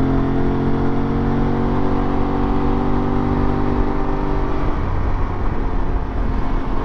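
An Aprilia Tuareg 660 motorcycle on dirt-style tires pulls hard along Highway S-22, a winding road outside Borrego Springs, California, its engine droning loud and steady under heavy wind rush, with a shift in pitch near the end.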